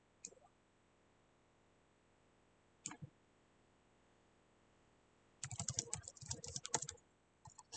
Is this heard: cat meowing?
no